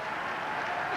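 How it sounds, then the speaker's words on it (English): Crowd applause at Shea Stadium during a 1998 Mets baseball game: a broad, steady wash of distant clapping from the stands, brief and even. "a round of applause for that pigeon here at Shea"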